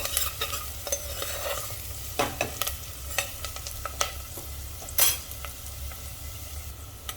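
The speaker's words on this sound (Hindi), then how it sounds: "प्याज को हम थोड़ा सा लाइट ब्राउन कर लेंगे" Onions fry in a pan while being stirred toward light brown, a constant close sizzle with irregular scraping strokes and a few sharper knocks of the spoon, no speech.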